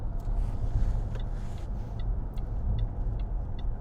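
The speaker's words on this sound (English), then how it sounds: "I'll finish the test drive there, and I'll just pull up" A 2010 Range Rover Sport 3.0 TD V6 drives along, a low steady rumble inside the cabin with faint, evenly spaced ticks over it.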